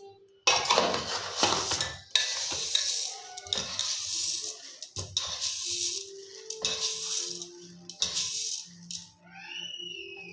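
Close metallic clattering and rattling of soaked lentils swished around in a steel bowl while being washed, in busy bursts with short pauses.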